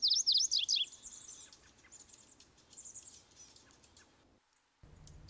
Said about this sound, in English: And the MacGillivray's warbler.